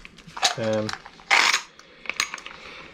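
Silver coins and a silver bar clink and rattle as they are handled, with bright metallic taps and one louder clatter, and a brief voice in between.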